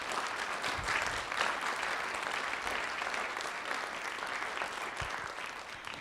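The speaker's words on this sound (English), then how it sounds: "I would just like, if I could, to have one more round of applause for our experts." An audience at a child trafficking education and prevention event gives a steady round of applause, dense clapping that holds at an even level for the whole stretch without voices over it.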